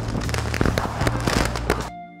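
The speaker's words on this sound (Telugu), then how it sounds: "ఇప్పుడైతే బ్లాస్ట్ అయితే చేసేద్దాం." Fireworks or firecrackers bursting at a celebration, a dense run of loud crackling pops and bangs for about two seconds before cutting to near silence.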